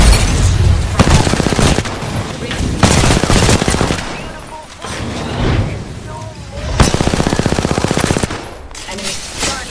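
Rapid automatic gunfire in a video game, long dense bursts of close, loud shots broken by short pauses, with a voice talking over parts of the action.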